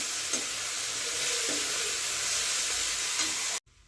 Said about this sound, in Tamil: இதுக்கு மேலே அடுப்பை நம்ம மீடியமாக வச்சுட்டு ஸ்லோலேயே நல்லா வதக்கி விட்டுக்கிடுவோம்